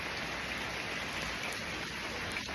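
Heavy rain pours steadily, a dense even wash of drops on surfaces with no let-up, heard alone at moderate distance.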